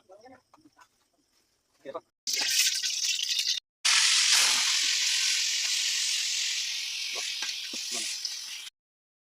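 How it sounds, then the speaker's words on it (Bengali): Loud, steady sizzling of duck meat frying in a hot pan, starting after brief quiet sounds, with a short break partway through before the hiss resumes. "ভাজা মাংস"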